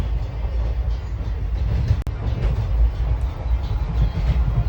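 A train rumbles steadily with low rolling noise and faint rhythmic clatter, heard from inside or close by as it slows arriving at Junagadh railway station.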